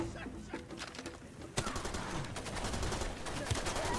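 Enemy gunfire in Far Cry 2, rapid bursts of shots crackling continuously over noisy ambience, with a sharper close report partway through.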